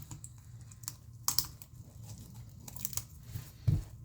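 A cured epoxy piece worked out of a flexible mold, close, irregular crinkling, tearing and creaking snaps with a few sharper pops, no talking.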